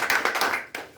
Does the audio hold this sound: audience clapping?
yes